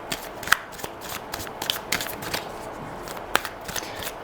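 Tarot cards being shuffled, a soft papery riffle with a few sharper slaps standing out, close and fairly quiet, with no talking.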